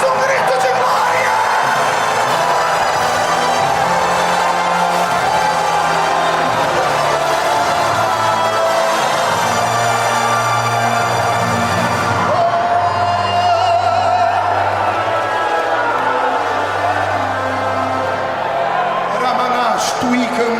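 A church congregation at a Pentecostal-style service shouts and cheers praise together, a loud sustained crowd roar with whoops and yells over music, swelling and dipping across the whole stretch.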